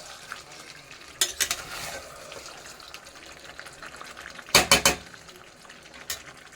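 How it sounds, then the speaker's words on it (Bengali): Pieces of desi chicken sizzle steadily in hot oil in a pan as the curry meat is sautéed, with clattering bursts of a spoon stirring against the pot cutting in twice. "আমার মাংস অনেক তেল ছেড়ে আসছে আস্তে আস্তে, অনেকটা মাংস কষে এসছে"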